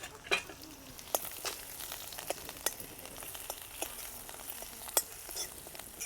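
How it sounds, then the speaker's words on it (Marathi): Mustard seeds, a spoon of cumin, chillies, curry leaves and coriander dropped into hot oil for a dhokla tempering, giving a continuous close sizzle dotted with sharp crackles and pops. "तेल गरम झालं, याच्यात मोहरी टाकू आपण, 1 चमचा जिरे, मिरच्या टाकू याच्यात, कढीपत्ता, कोथिंबीर सगळं याच्यामध्ये टाकायचं."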